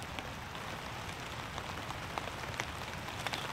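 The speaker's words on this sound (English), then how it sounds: "It's raining heavily now." Steady, dense patter of heavy rain drumming on a tarp tent, with scattered louder drops popping through the continuous hiss.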